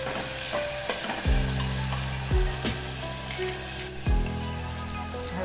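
Valor beans with tomatoes and potatoes sizzle in a pan while a spoon stirs through them, steady frying hiss broken by several scraping strokes against the metal, close up.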